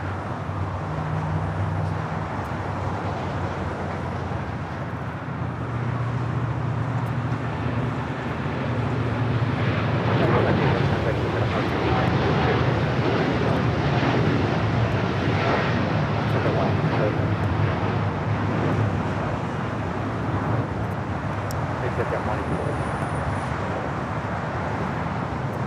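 A United Boeing 787-9 Dreamliner, flight 198 to Shanghai, departs LAX with a long, loud, broad engine roar that swells and holds before slowly fading.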